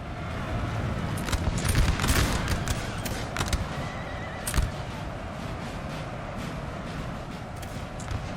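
Cavalry horses neighing and whinnying in a Napoleonic battle game, mixed with hoof clatter and scattered musket and cannon fire, a busy continuous battlefield din.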